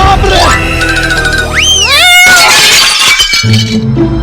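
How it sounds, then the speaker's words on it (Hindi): A cat yowls loudly, then metal and glass kitchen utensils crash and clatter down in a quick burst of sharp impacts, close by. "ये अपने घर से बर्तन गिरने की आवाज कैसी आ रही है?"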